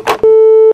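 A phone busy tone after a call is cut off, a single loud, steady electronic beep lasting about half a second, preceded by a brief rustle.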